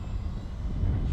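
A Tech-One Neptune EDF RC jet flying wing makes a slow, low pass into the wind, its ducted fan giving a steady, even whooshing roar that holds for the whole moment without a break.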